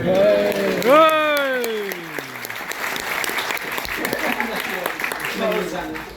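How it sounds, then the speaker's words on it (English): A crowd at the Dunmow Flitch Trials gives a sustained round of applause, steady and full throughout. A voice speaks over the start. "I think that deserves a round of applause."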